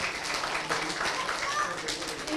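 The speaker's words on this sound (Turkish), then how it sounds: "Alkışlayalım bir de arkadaşımızı" Applause from an audience of children on a Turkish kids' game show greets a classmate, a moderate wash of clapping that runs through the short stretch with a voice mixed in.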